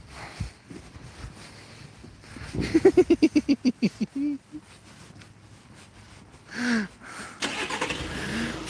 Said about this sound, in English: the officer's now started the engine